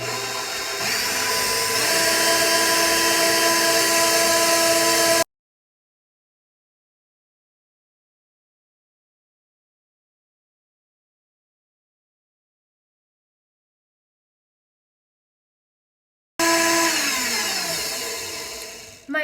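Electric mixer whipping egg whites for angel food cake, a steady loud motor whir with a slight pitch shift, cut by a long stretch of silence before the whirring resumes and winds down.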